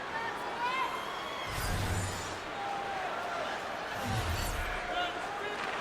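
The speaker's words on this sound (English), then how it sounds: "Crowd's buzzing, ready to get things back underway, and I think the officials are too" Arena crowd in the hockey video game NHL 23, Detroit Red Wings against the New York Rangers, a steady murmuring buzz under a commentator's voice, with a couple of low thuds rising briefly out of the din.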